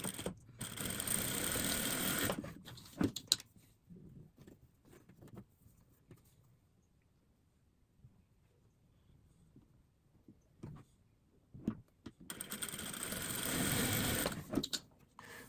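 A sewing machine stitches along a marked line on a patchwork block for a cushion cover, running in a steady loud burst, falling quiet for several seconds of faint handling, then starting up again at full speed.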